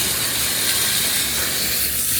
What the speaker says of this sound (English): So spray it off before it gets